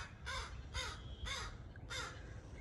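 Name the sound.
crow cawing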